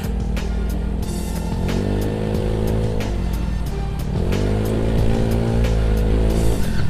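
Honda Scoopy scooter fitted with a Speedspark open looper exhaust, revving repeatedly in loud close bursts with rising and falling engine pitch.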